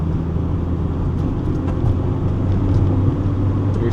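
Manual Acura Integra DC4 accelerating up a freeway on-ramp through repeated gear changes, a steady loud low engine and road rumble filling the interior with no talk.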